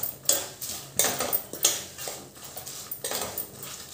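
Bhadang, spiced puffed rice, stirred in a pan with a spoon: repeated scraping, rustling strokes with sharp metallic clinks, roughly one every half second, close and fairly loud with no talk.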